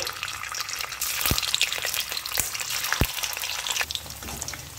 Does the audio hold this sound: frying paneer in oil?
yes